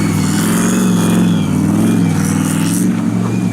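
An LS2 V8-swapped Porsche Boxster at full throttle, its engine roaring loud and close with a rising, rumbling note that holds steady throughout.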